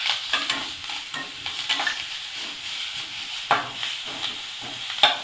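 Ginger garlic paste sautés in a pan with coriander and curry leaves for a chicken potato kurma, giving a continuous close sizzle and hiss with occasional stirring scrapes and small spatters.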